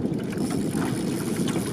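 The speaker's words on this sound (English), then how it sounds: "I do apologise for any wind noise or rain" Steady, loud wind buffets the microphone on a small boat fishing for luderick at Jumpinpin in a 25-knot wind and on-and-off rain, a continuous rough rumble with no clear voices.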